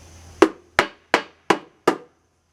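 Five sharp body hammer blows strike wood in an evenly spaced sequence, each a crisp near thud that decays quickly.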